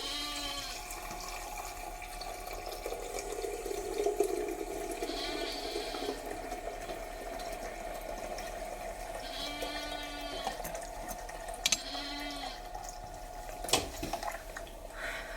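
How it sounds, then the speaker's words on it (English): Water runs into a milk-feeding machine for lambs, a steady stream and splash heard over several seconds, with sheep bleating intermittently nearby. "Now add more water."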